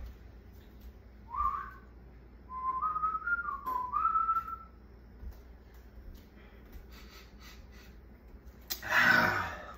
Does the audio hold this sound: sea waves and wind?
no